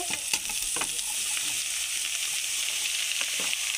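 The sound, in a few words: bottle gourd and chili frying with onions in a pan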